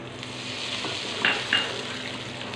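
Cardamom powder is stirred into golden sugar caramel for a semolina halwa, over an even bubbling sizzle broken by two quick spoon scrapes against the pan.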